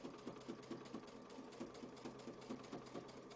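A sewing machine stitches over a clamshell quilting pattern on a quilt block, a steady, fairly quiet rhythmic whir with regular pulses, running alone without talk.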